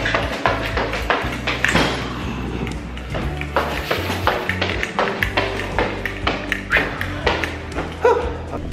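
Footsteps climb a stairwell in a quick, even rhythm, each step a sharp close tap or thud repeating for several seconds, with no one talking.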